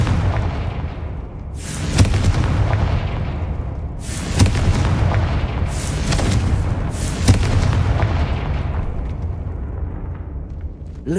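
Confringo fire-spell blasts in Hogwarts Legacy go off as four booming explosions spaced a couple of seconds apart, each with a sharp crack that fades into a rumbling tail.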